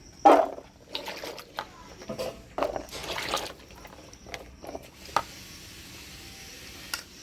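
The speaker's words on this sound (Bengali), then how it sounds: "কচুর সাথে একটা আলু কেটে নিচ্ছি একসাথেই ধুয়ে নিলাম" Taro and potato pieces are washed together in water, making soft splashes, drips and squishy handling sounds in short irregular bursts at close range, with quiet pauses between them.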